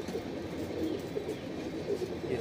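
A pigeon in a loft, a bird brought in from the border, gives a low, repeated throaty cooing close by against a soft background hum.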